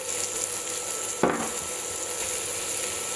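Peas sautéing with chopped vegetables in a pan for paella: a steady, even sizzle throughout, with one brief clatter of stirring partway through.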